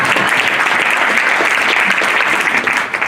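Loud, steady applause from the audience at a candidates' debate in Seltjarnarnes in 2026, a dense clapping roar that runs unbroken for the whole stretch and thins slightly at the very end.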